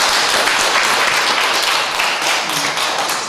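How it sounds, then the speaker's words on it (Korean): Loud, dense applause from a church congregation fills the room during a Sunday service, sustained and even throughout. "감사의 박수 한번 하겠습니다."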